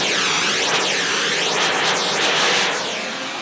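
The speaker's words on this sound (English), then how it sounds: "This is back to the same signal, same pink noise in the bowl." Steady pink noise played into a bowl: a loud, continuous broadband hiss with slow swirling, hollow phasing colorations, fading slightly at the end.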